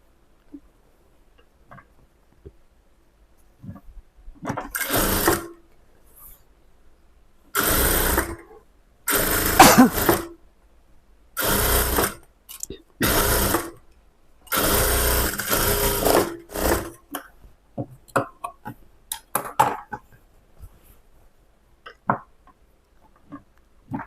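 A sewing machine stitches a lining blouse in several bursts of a few seconds each, separated by short pauses, running loud and close with no talk.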